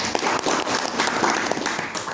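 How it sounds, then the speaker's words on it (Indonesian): An audience at a government office gathering claps together in a steady, moderately loud round of applause that lasts the whole moment. "Tepuk tangan buat semuanya."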